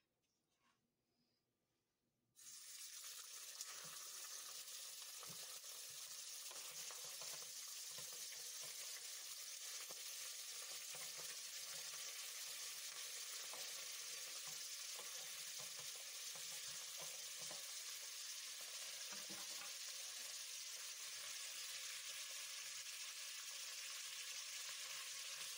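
Fish sizzling steadily in a small amount of hot oil in a pan, a loud, dense, continuous frying hiss that starts abruptly after a quiet moment and holds evenly close by.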